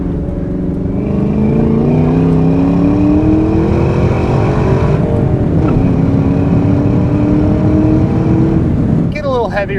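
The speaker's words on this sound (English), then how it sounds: "Heavier in the throttle there, have some fun." A 2003 Ford Mach 1 with a 5-speed manual revs hard under heavy throttle on a test drive, its loud, steady engine note climbing in pitch, dipping briefly as it shifts, then pulling up again.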